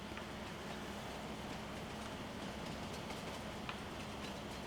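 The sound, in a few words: train running, from a video game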